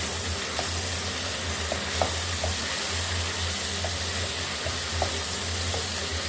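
Tomatoes and green chillies fry in a pan, giving a steady close sizzle with occasional light scrapes of a spoon as they are mixed, and no talking.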